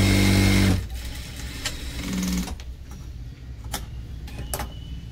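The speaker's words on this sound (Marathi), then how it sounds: "हा अर्धा इंचाचा पार्ट आपण आतमध्ये फोल्ड करून घेणार आहे आणि इथे स्टिच मारून घेणार आहे" Electric sewing machine stitching a folded half-inch hem on blouse fabric, a loud steady whir for under a second that cuts off, followed by a short quieter burst and light handling clicks.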